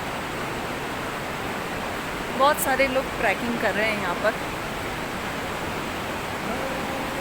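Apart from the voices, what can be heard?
loud rushing river water on trek near Kasol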